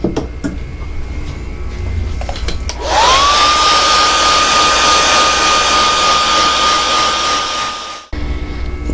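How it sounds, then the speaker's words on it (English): A hair dryer or heat gun starts with a rising whine and then blows at a loud, steady roar for about five seconds before cutting off, heat setting paint on a small painted fish model. "And now I'm going to heat set this."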